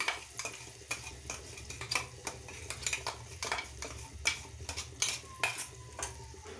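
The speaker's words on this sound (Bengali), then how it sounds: "এরপরে আমি এই মিশ্রণটাকে তেলের মধ্যে দিয়ে দিলাম" A spice mixture frying in oil in a pan while a utensil stirs it, giving rapid rhythmic scrapes and clinks against the metal over a soft sizzle, close and quiet, with no voices.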